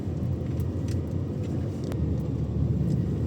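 A car rolls slowly over a rough dirt road on farmland in Tanay, Rizal, with a low, steady rumble and occasional knocks and rattles from the bumpy surface, heard from inside without talk.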